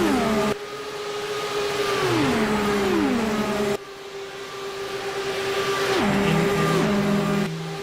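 Indy 500 race car engines scream past one after another, their high-pitched whine dropping in pitch as each car passes nearby.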